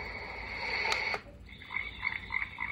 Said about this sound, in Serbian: žabice.